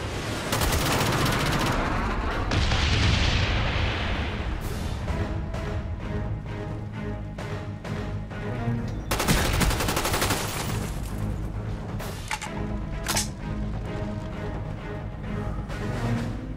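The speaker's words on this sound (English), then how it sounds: "Friendly napalm strike on the way." Napalm strike in Black Ops erupts with heavy fiery blasts amid sustained machine-gun fire and battle noise, loud and dense throughout, with a sharp fresh burst near the middle.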